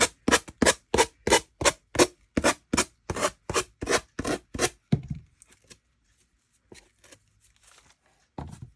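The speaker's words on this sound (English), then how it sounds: "Just start sanding in a downward motion to take off the excess paper" A finger sander makes a rapid series of about fifteen short, rough rasping strokes in steady rhythm, close by, sanding excess paper off a thrifted item, then quiet with a few faint scrapes and handling noises.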